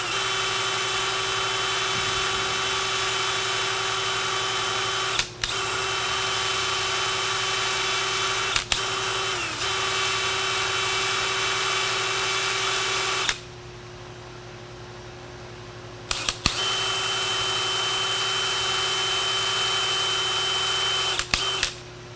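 Power drill boring a 3/8-inch-deep hole, running as a steady, loud close-up whine that stops briefly a few times and cuts out for about three seconds near the end before resuming, with no talking.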